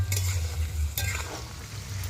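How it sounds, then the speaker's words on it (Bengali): Raw mango pieces fry and get stirred in a pan for a pickle, with steady close sizzling and scraping from the spatula. No voices are heard. "এখানে অবশ্যই করে আমটাকে একটু ভেজে নেবেন"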